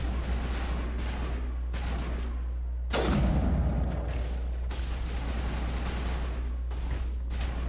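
Bursts of rapid gunfire from the Mass Effect video game rattle in repeated volleys, with a heavier blast near the middle and sustained shooting over a low droning background.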